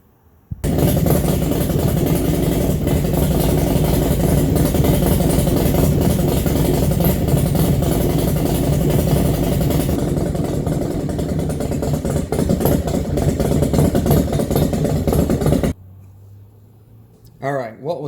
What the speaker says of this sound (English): all of a sudden the bike's running